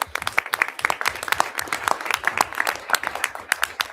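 Applause for National Merit finalists at a high school board meeting, a steady crowd of hands clapping at close to moderate distance, dense and continuous for the whole stretch without speech.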